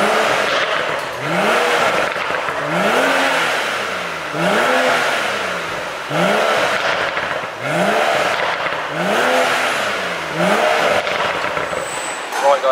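BMW M135i with a resonator-delete exhaust, revved repeatedly in loud rising and falling bursts, about six swells with a raspy exhaust tone close by.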